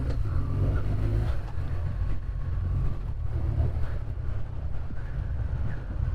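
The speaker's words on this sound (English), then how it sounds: "you do find it is a really smooth engine." A 2024 BMW R12 nineT motorcycle engine runs smoothly at speed, giving a steady, loud low rumble with constant wind buffeting over it and no talking.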